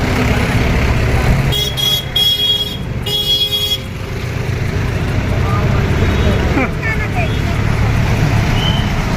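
Busy, crowded road traffic near a packed Yuva Mitan Club gathering in Raipur produces a constant engine roar, with a vehicle horn honking in bursts near the start and a crowd talking throughout.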